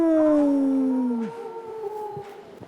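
Crowd of Italian fans at a Magic: The Gathering Grand Prix finals in Prague voicing a loud sustained wolf howl that slides downward, imitating wolves, then fades into quieter murmuring hall noise.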